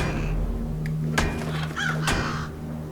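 Crows caw in the stealth game Thief, a couple of harsh calls and a dull thunk standing out over a steady ambient drone.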